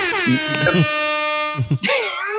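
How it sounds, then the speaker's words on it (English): A blaring air horn sound effect blasts in sustained bursts, loud and harmonically rich, with brief voice sounds between the blasts. "That was the air horn for magic."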